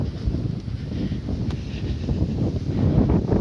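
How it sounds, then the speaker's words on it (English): Strong easterly crosswind on the Florida Trail near Moorhaven buffets the microphone in low, uneven gusting thumps and rumbles, loud and close for a few seconds with no talking. "It's very windy."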